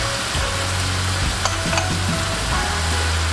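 Wild boar adobo with dark soy sauce sizzles steadily in a pan at home, with scraping stirring strokes over the constant frying hiss and no voices.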